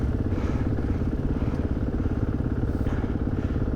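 Enduro motorcycles at a rally, a steady, close engine drone with a rough, pulsing mid-range rumble that holds level throughout, with no clear pass-by swell.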